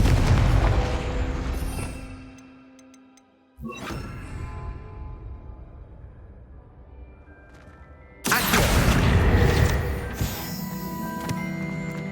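In the Hogwarts Legacy video game, a Confringo fire spell goes off as loud booming blasts: a heavy burst that decays, a sharp impact, then another big explosive whoosh with lingering rumble.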